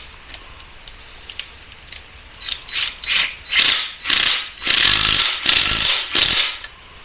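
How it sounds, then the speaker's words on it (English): A ratchet wrench tightens the large rear axle nut on a show bike, clicking in a run of rapid bursts that grow louder and longer as the nut snugs down, close and alone. "Now we gotta do is hit the big nut here, get the axle tightened back up."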